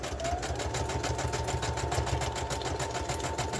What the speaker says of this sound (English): we're just going to sew all the way around the edges